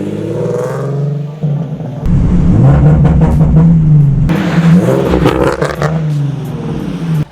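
A Nissan 370Z with straight-piped exhaust revs from outside the car: a loud, rough roar that surges up and holds, dips, then climbs again through several revs, with clattering crackle at the peaks.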